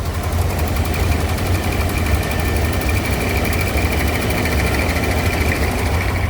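A Rolls-Royce Silver Shadow II engine idles steadily after starting, with an exhaust leak adding a constant rough, low rumble and hiss that stays close and loud with no talking.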